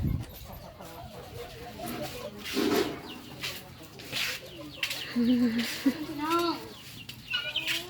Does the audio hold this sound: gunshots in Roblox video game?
no